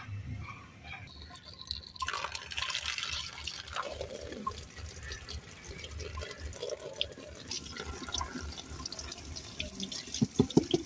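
Water runs steadily from a tap while a clay-caked basket is washed in a rural home, a continuous splashing flow with occasional drips and clatters, close by and without talk.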